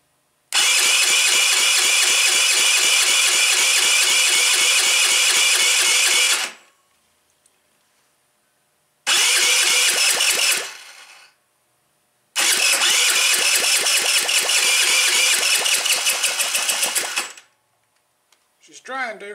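A Tao Tao engine cranks hard for about six seconds, stops, cranks briefly again, then grinds through another long five-second attempt without catching, loud and close with pauses between tries.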